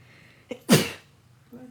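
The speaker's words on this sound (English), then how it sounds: "I'm been sneezing half the morning" One loud sneeze nearby, a short gasp then an explosive burst, followed by a brief murmur of a voice.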